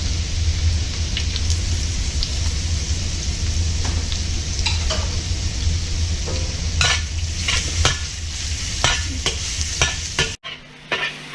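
Minced garlic and ginger fry with orange zest in a hot pan for orange beef, giving a loud, continuous sizzle close by. Occasional stirring clicks and scrapes sit on top, and the sound cuts off abruptly near the end.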